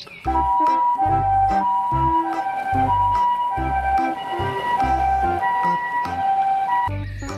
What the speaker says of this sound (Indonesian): di sini ada mobil ambulan teman-teman